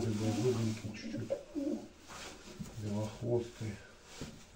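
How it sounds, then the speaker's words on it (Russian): A red pigeon coos in soft, low, rhythmic phrases close by, and someone talks over the sound. "Вот такой вот голубь есть."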